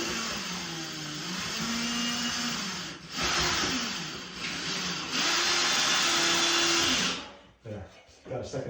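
A power driver runs a second screw into a metal bracket for an indoor cat walk, whirring steadily at close range in several pitch-shifting bursts for about seven seconds before stopping.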